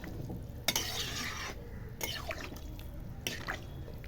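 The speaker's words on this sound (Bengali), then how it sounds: "এবার আমি এটাকে ভালো করে নাড়াচাড়া দিয়ে একটু ঢাকা দিয়ে দেব।" Soybean curry stirred in a pan: wet scraping and sloshing strokes come in a few uneven bursts, with light bubbling and a faint sizzle between them, close and fairly quiet.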